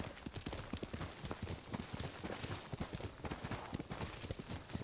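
Rapid hoofbeats of a horse in the video game Ghost of Tsushima pound in a quick, even galloping rhythm, loud and close, with no voices over them.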